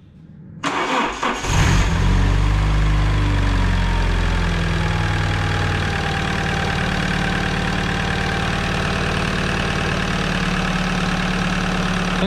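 An Alfa Romeo 156 JTD diesel engine cranks briefly, catches with a loud rising roar, then settles into a steady, close, rumbling idle with a faint clattery diesel edge.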